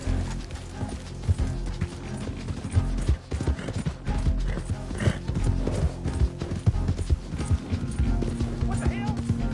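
Horse hooves clip-clop steadily through a busy mix of game sounds in Red Dead Redemption 2, a galloping rhythm running the whole stretch with voices heard over it.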